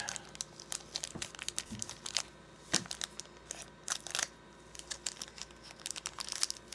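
Scissors snip through plastic Grossery Gang toy packaging, giving a run of sharp close crinkling and crunching bursts at an irregular pace, with no talking over them.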